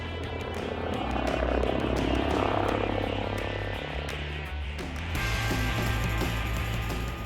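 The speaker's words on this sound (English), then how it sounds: "it's probably the most advanced police helicopter in the world." A steady low rotor drone and engine hum of an MD-902 Explorer police helicopter in flight over southeast England, continuous and fairly distant, with a shift in pitch partway through.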